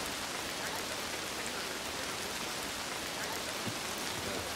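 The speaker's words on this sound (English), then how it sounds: "Really raining now." Heavy outdoor rain pours steadily, a dense and even hiss of drops striking the ground and other surfaces, with no voices.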